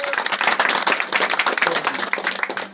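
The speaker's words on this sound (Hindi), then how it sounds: "ताली बजाइए आप" A crowd in Lalganj claps loudly at a gathering announcing a Ward No. 2 district panchayat member candidate. The rapid, uneven claps are close and come from many hands, sustained through the clip.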